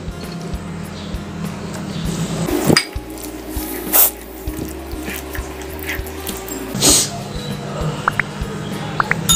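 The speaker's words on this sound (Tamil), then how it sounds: "இப்போ இதில் நம்ம கழுவி எடுத்த மீனை ப்ளஸ் இது நல்லா பிசைஞ்சுக்கலாங்க" Washed fish being kneaded with spice masala in a bowl by hand, soft wet squishing and squelching with occasional clinks against the bowl, close and steady.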